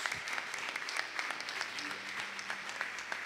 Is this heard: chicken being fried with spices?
no